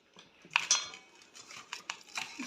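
A spoon stirs a gram flour (besan) mixture in a bowl, making irregular metallic clinks and scrapes, close and fairly quiet.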